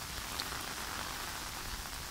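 Rain falls steadily outdoors during a fish-trap outing in wet, high-water conditions, a dense even hiss of drops with no voices, consistent for the whole short stretch.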